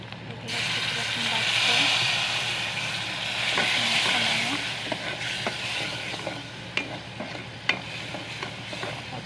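Curry cooks in a pan with turmeric, chili and spices, giving a loud steady sizzle and hiss with sharp intermittent clicks of a utensil stirring, and a voice talking over it.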